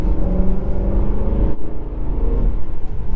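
BMW E92 M3 V8 revving loudly up close, a deep rumbling engine note that surges, dips briefly, then swells again, with no talking.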